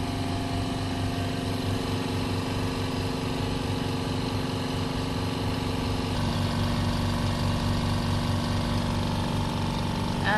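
An air compressor on a steam explosion system runs steadily and loudly, a dense mechanical drone with a rhythmic pulsing beat that shifts tone partway through.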